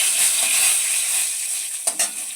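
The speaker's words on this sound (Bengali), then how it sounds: "গোটা জিরে হাফ টেবিল স্পুন একটা শুকনো লঙ্কার ফোড়ন দিয়ে নেওয়া হলো" Whole cumin seeds and a dried red chili sizzle in hot oil, a continuous bright crackle and hiss that stays loud throughout, with a couple of soft knocks near the end.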